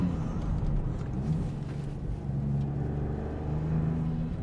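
A Maserati MC20 Cielo supercar drones with a steady, deep engine rumble from inside the cabin, its low hum rising and falling slightly with faint whirring on top.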